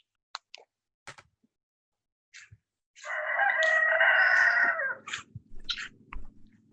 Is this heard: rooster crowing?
yes